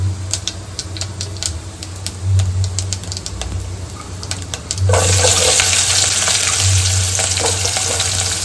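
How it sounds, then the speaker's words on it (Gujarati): Onion is dropped into hot spiced tempering oil with chillies, starting with sparse crackles and pops, then breaking into a loud continuous sizzle about halfway through, close by. "હવે આપણે એમાં ડુંગળી એડ કરવાની છે."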